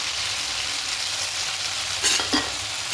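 Ginger garlic paste hits hot oil in a pan with lightly fried chickpeas, a steady soft sizzle with two brief sharp spits of frying near the end.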